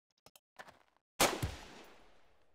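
A single gunshot rings out in the tactical video game Jagged Alliance 1.13, a sharp loud crack followed by a long decaying echo, preceded by a few quiet clicks and small interface sounds.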